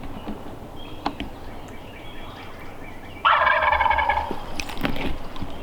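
A wild turkey gobbles loudly and close during a midday turkey hunt, one rich burst breaking over a quiet outdoor background with faint rustling before and after.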